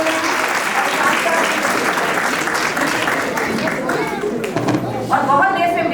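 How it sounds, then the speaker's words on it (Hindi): An audience claps at a school annual day for a play school's young performers, loud, dense applause mixed with crowd chatter and voices talking over it. "थोड़ा तालियां बजा दीजिए बच्चे की जैसा"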